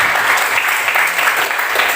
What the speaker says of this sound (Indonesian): Tepuk tangan dulu untuk Abang ya.